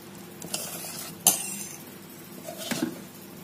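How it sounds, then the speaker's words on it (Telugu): Rice flour is stirred into a hot sugar-syrup chalimidi mixture, with a spoon scraping and clinking against the pot in a few sharp strokes over a low sizzle. "అంతా కలిసే విధంగా కలుపుకొని పిండిని కొద్ది కొద్దిగా యాడ్ చేసుకొని కలిసే విధంగా అంతా కలిసే విధంగా కలుపుకుందాం"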